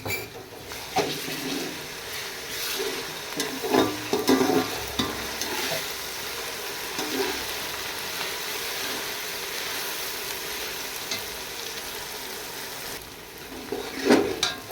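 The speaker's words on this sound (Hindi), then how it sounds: "अब इसमें डालेंगे अदरक लहसुन का पेस्ट और अच्छी तरह से इसको भूनेंगे।" Ginger garlic paste frying with browned onions in a pan while cooking chicken biryani, giving a steady soft sizzle with occasional stirring scrapes and clatters.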